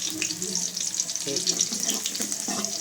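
Red onions sizzle loudly in hot oil, with a dense, close hiss and crackle that never stops. Brief clinks and low murmurs sit underneath the frying.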